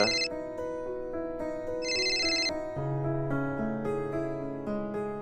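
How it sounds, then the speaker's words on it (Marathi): A phone ringtone plays a bright electronic melody of stepped tones, fairly close and clear, with no voices over it. "आता कोणाचा फोन आला?"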